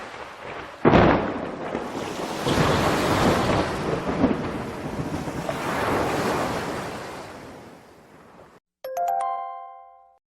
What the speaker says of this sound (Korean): 무서운 천둥 소리와 함께 폭풍이 휘몰아쳤어요.